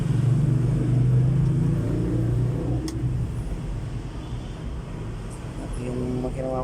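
A car engine idles during a pre-drive check of radiator water and battery, a low steady rumble with a faint hum, while someone talks over it close by.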